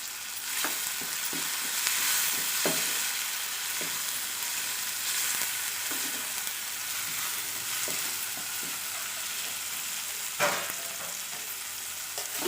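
Chopped tomatoes sauté with salt in a pan for a Tamil fresh cashew nut poriyal, giving a steady, close sizzle and crackle broken by occasional sharp scraping or stirring knocks.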